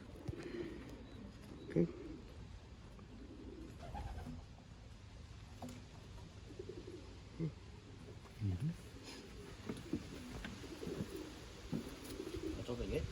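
Racing pigeons coo in soft, low, rounded bursts around a loft, scattered across the stretch, while a person talks briefly nearby.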